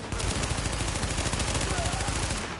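A weapon fires in The Division, a fast continuous burst of automatic gunfire with rapid, evenly spaced shots, loud and close throughout.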